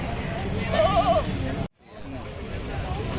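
Goats bleat in a wavering, quavering cry amid the babble of a crowded livestock market in Jamshedpur ahead of Bakrid, with people talking throughout and a brief cut to near silence.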